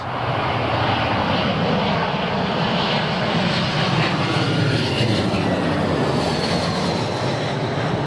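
A jet airliner roars steadily on approach to London Heathrow during Storm Brendan, its engine noise broad and continuous with heavy wind rumble and no voices.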